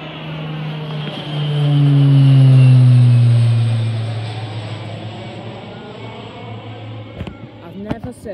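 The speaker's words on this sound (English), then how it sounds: "I've never seen a propeller plane like that before" A propeller-driven aircraft drones overhead, its engine tone swelling loud in the middle and sliding lower as it passes, then fading.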